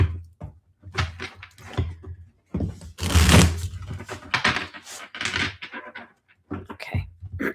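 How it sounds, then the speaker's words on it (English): A deck of tarot cards being shuffled by hand in a series of soft, papery riffling bursts, with one longer, denser flurry in the middle and short pauses between handfuls; no talking. "One more shuffle for Sag."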